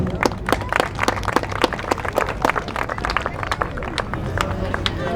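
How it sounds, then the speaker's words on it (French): A horse show audience applauds, dense rapid clapping that goes on steadily throughout, fairly close and loud, with a murmur of crowd voices underneath. "Bravo mademoiselle, vous pouvez l'applaudir"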